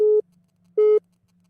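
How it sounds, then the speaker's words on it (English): A telephone busy signal on a call with network trouble gives two clean, evenly spaced tones about a fifth of a second each, loud and alone over a faint line hum. "Oh no, we got network issue on the phone."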